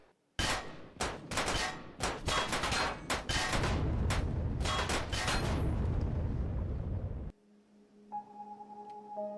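Heavy gunfire in Empyrion: loud bursts of shots and booming impacts for several seconds, then an abrupt cut to a quiet electronic hum and tones.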